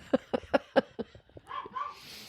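Several dogs bark outside through an open window, a quick run of five or six sharp barks followed by softer yips and a whine, fairly close and fading toward the end.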